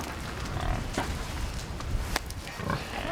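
Pigs grunting on a farm on a cold day, low rough grunts scattered through steady outdoor noise, no clear talk over them.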